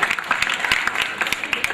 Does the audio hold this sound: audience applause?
yes